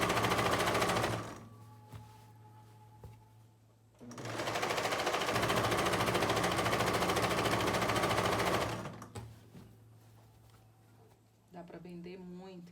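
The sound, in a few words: sewing machine stitching a bathroom set seam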